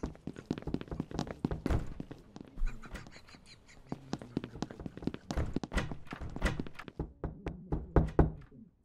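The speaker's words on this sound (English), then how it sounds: "Why are you knocking on the other side?" Repeated knocking on a door in an office setting, irregular clusters of hollow thumps and taps that continue steadily and sound close throughout.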